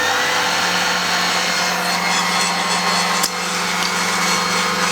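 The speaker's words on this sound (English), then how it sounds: "chuck it into the mixer here, and start whisking it up and get it catching the air" An electric mixer whisks half-set spiced marshmallow gelatin at high speed, giving a loud, steady whirring drone that runs unbroken from start to end, with no talking.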